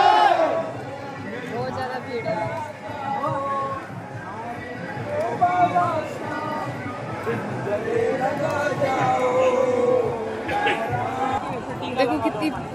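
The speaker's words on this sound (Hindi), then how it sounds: "देखो कितनी भयंकर वाली भीड़ है।" A large, dense crowd of devotees at Khatu Shyam temple fills the space with continuous overlapping voices, shouts and chatter, loud and close throughout.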